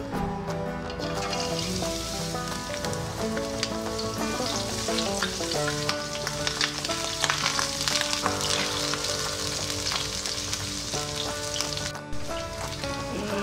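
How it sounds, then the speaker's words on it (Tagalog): Garlic frying in hot cooking oil in a pot, a steady dense sizzle with crackling pops that runs close and loud throughout, with a brief dip near the end and no talking. "Pag mainit na po yung mantika, pwede na po natin ilagay yung bawang."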